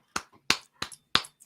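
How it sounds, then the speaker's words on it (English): Four sharp hand claps ring out at a steady, unhurried pace, each a crisp close smack with a quick decay, isolated against near silence. "We'll give you a few claps."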